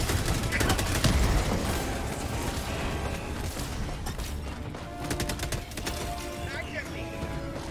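Rapid rifle fire in Helldivers 2, dense volleys of loud crackling shots rolling on continuously for several seconds, with voices talking over the battle.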